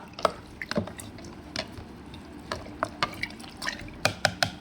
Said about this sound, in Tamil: தண்ணி ஊற்றியாச்சு ஊற்றிட்டு இதை நல்லா கலந்து விட்டுக்கலாம்